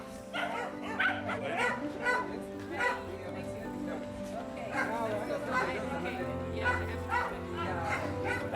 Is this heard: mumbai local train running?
no